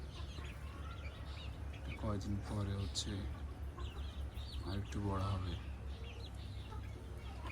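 Free-range chickens on a rooftop cluck and a rooster calls intermittently nearby while someone talks over them.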